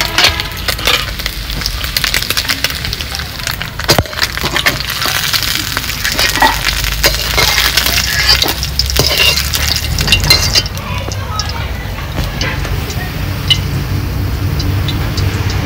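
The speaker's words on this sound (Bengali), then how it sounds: "মাছগুলো লাল করে ভেজে নিয়েছি, এবার নামিয়ে নেব" Small puti fish fried red in hot oil are lifted out of the pan, giving loud crackling spatters, sharp clinks and scraping of a utensil, the frying noise easing near the end.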